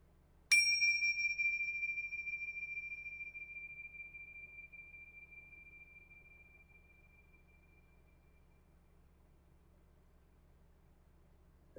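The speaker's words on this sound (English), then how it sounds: "Spirit, I did the bell." A single bell or singing-bowl strike rings out clearly in a quiet room and then decays slowly over about ten seconds into silence.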